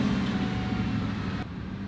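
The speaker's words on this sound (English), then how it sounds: "the air compressor turning, the AC compressor turning off and on" Mustang GT convertible idling with its AC compressor engaged, a low steady engine drone with a noticeable drop in the hum near the end as the compressor cuts out.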